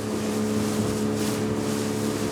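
A rented motorboat out on the water for squid fishing drones steadily with a low engine hum and wind rush throughout, close and continuous with no talk.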